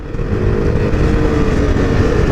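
A tuned KTM RC390 with an upgraded piggyback ECU roars loudly and steadily while being ridden hard through a corner, the close engine note continuous and strong throughout.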